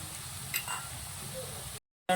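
Onion and ginger fry in a pan with a steady, soft sizzle and faint stirring, continuous and close before cutting out abruptly near the end.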